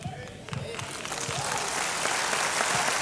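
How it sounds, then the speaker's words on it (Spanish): A congregation applauds during a church sermon, a dense, sustained wash of clapping that swells and holds steady for a few seconds without talk. "Dele un aplauso al Señor"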